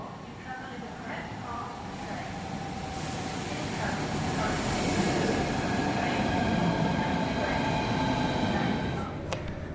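A High Speed 1 train running from St Pancras to Ashford gives a steady, loud rolling rumble with a faint high whine that holds throughout and swells slightly midway.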